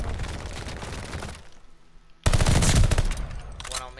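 Heavy automatic gunfire in Call of Duty Vanguard Search and Destroy: a loud burst, a brief near-quiet lull, then an even louder sustained volley, close and aggressive, with a voice speaking briefly over it.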